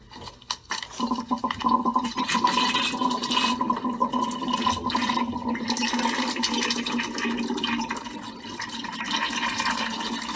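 Water rushing and gurgling steadily from a water heater tank's opened drain valve after a few clicks, a continuous close draining flow lasting several seconds.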